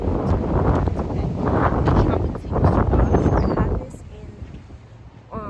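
Strong wind buffets the microphone outdoors near a garden polytunnel, roaring in heavy gusts that drop to a quieter rustle toward the end.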